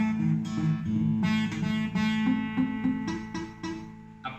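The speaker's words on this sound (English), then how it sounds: "So if you have any problem like you hear buzzing or mute sound like this" An acoustic guitar chord is strummed several times, close and fairly quiet, with some strings buzzing or muted rather than ringing cleanly.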